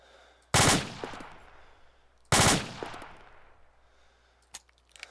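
Rifle fire in the video game Arma 2 while a magazine is emptied, two loud rapid bursts a couple of seconds apart, each ringing out and fading, followed by a faint single shot.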